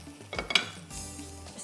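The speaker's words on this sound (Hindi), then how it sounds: "चले जी, यहाँ रख देती हूँ, फ्राई हो रही है।" A few metallic clinks of a utensil against a pan, then a steady low sizzle as bell pepper cooks in butter, heard up close with no talking.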